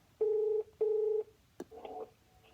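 A Uniden XDECT digital cordless phone sounds its answering tones: two clear, evenly spaced electronic beeps, followed by a short click and a brief burst of quieter line sound, close and distinct against a hushed room.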